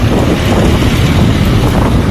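Strong wind roars and buffets the microphone, a loud, constant rumbling rush with no other sounds.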